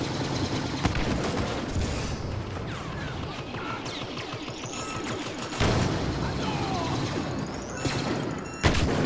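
Gunfire in a video game shooter set in a palace garage, with sharp shotgun-like blasts and other weapon fire crackling throughout amid busy game effects, with a louder burst near the end.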